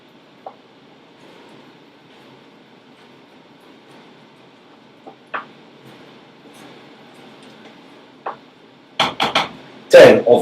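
A spoon stirs risotto with mascarpone, parmesan and butter in a pot, making sparse clinks against the metal that build into a quick cluster of louder scrapes and knocks at the end, with faint voice in the background.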